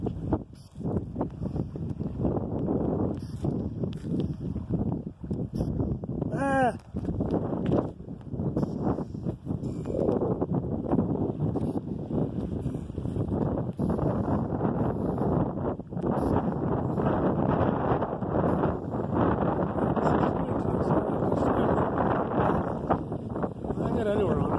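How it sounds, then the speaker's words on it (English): Chilly wind blows steadily by a bay, a constant close rush and buffeting across the mic that lasts the whole stretch. A voice talks over it at times. "Wind's blowing chilly wind."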